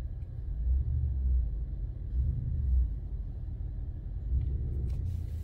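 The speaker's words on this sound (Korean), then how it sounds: "이게 디젤 엔진이라도 상당히 조용하기 때문에" From inside the cabin of a moving Mercedes-Benz GLC 220d diesel comes a low, steady rumble of engine and road noise that swells gently and stays fairly subdued.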